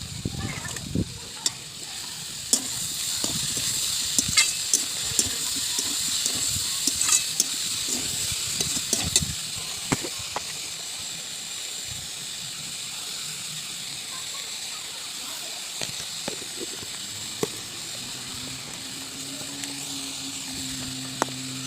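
Ginger-garlic paste sizzles in a pan, a continuous hissing fry with frequent sharp crackles and stirring clatter, close and moderately loud, with no voices over it.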